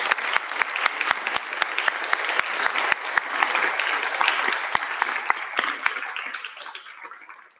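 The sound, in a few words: audience applause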